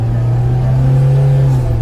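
A car passes on a narrow New Zealand road, a steady engine drone with a low hum rising and fading slightly over two seconds, close and alone without voices.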